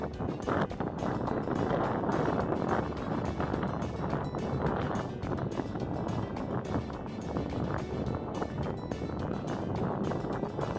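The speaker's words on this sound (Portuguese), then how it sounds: "O vento é muito forte." Strong wind at a salt flat in Argentina buffets the microphone in continuous roaring gusts, loud and unbroken, with a watery wash beneath and no voices.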